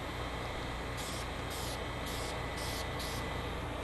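Spray primer misting in light passes onto a 1:350 scale Enterprise refit model starship, a steady hiss with rhythmic bursts as the nozzle is pressed and released, close and continuous.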